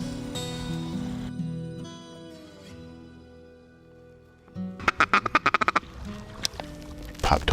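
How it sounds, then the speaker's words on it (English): Ducks quack in flooded timber near Stuttgart, first as a soft distant chatter under a hum, then a loud close burst of rapid repeated quacks near the end. "there's a lot of birds in the area"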